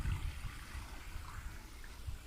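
Stream with a waterfall near a beach beside rice fields, a low, steady wash of flowing water heard faintly and continuously, with no voices.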